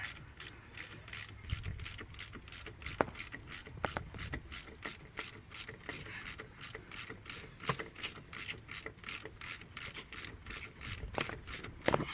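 A ratchet fitted with a short extension and deep socket backs out bolts on a 2000 Chevy Cavalier, a steady run of rapid, close clicking that carries on for the whole stretch with no talk.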